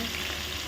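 Chopped onion and whole garlic fry in a hot pan for Bengali-style country chicken curry, giving a steady, close, even sizzle with no pauses.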